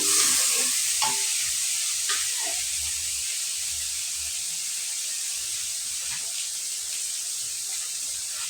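Spice masala with chili powder sizzles and fries in a pan, a steady bright hiss with a few scraping stirs early on, close and continuous.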